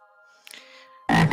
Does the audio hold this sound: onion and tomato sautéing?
no